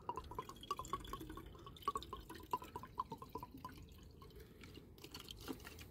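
Coolant trickles and drips into the cooling system of a Peugeot 106 1.1, with a steady, faint liquid patter and small splashes close by, with no talking.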